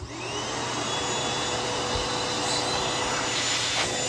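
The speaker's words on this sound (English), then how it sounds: "here I attached the wand to it and the vacuum." A vacuum cleaner fitted with a wand and a soft horse hair dusting brush attachment runs steadily up close, giving a loud, even motor whine and rushing airflow for about four seconds with no speech.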